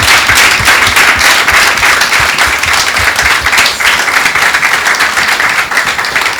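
Studio audience clapping warmly for an honorary university professor, dense steady applause close and loud throughout, no talk over it.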